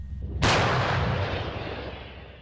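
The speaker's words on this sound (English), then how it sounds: "maneuver this 155 caliber German howitzer to its firing position" 155 caliber German howitzer firing near Bakhmut: one sudden, very loud boom that hits hard and then rolls away in a long, slowly fading rumble, with no voices.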